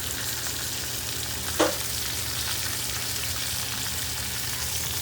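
Green beans stirred in country butter for a Thanksgiving dish, giving a steady soft frying sizzle throughout with one brief scrape of the spoon partway through.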